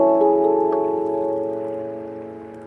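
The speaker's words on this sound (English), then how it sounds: "can you hear the boat going past in the distance?" A boat passes in the distance, a steady low engine drone with a tonal hum that slowly fades away, with no voices.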